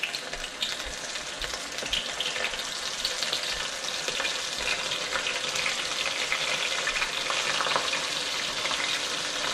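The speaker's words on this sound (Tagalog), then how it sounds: "piprituhin natin yung ating hipon na binalot natin sa cornstarch" Shrimp coated in a mix of cornstarch, flour and salt frying in hot oil, a loud, dense, steady sizzle with crackling and popping that holds continuously throughout, close by and with no voices.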